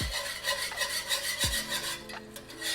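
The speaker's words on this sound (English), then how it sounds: "And you're gonna whisk for a minute." Onions and gravy being whisked in a pan for smothered pork chops make a steady, continuous scraping rasp with a rapid rhythmic swish, close and fairly loud, with no voices.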